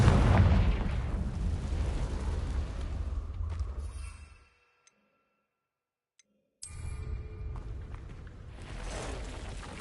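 Confringo blasting spell explosion in the Hogwarts Legacy video game, a loud booming blast that rumbles and fades into brief silence, then a second burst of roaring rumble.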